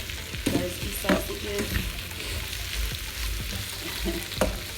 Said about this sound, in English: we're gonna let this simmer in the onion and let it just like get its juices in